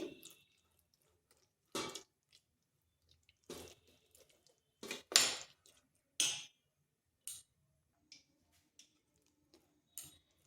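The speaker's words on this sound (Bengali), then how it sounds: "এখানে দিয়ে দিচ্ছি 1 চিমটে খাওয়া সোডা, এরপর ভালোভাবে মিশিয়ে নিচ্ছি।" Semolina pakora batter with a pinch of baking soda being stirred, sparse wet squishes and soft clicks at irregular intervals against near silence, close and fairly quiet.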